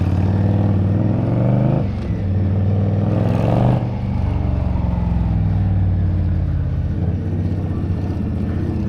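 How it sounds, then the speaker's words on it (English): A motorcycle engine revs and pulls hard on New York City streets, a loud close roar that rises, dips briefly around a gear change, then keeps droning steadily. "something cool about this bike that you can really give it the full beans"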